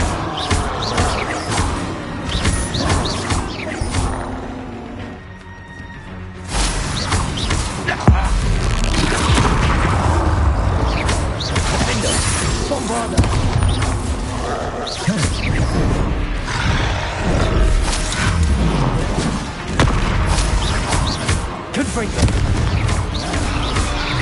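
Bombarda and Confringo blast spells in Hogwarts Legacy, a dense run of booming explosions and crackling impacts through a loud spell-heavy battle, with talk over the din.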